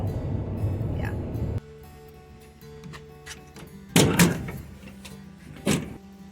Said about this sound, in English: And now I should go down in history as the man who opened a door.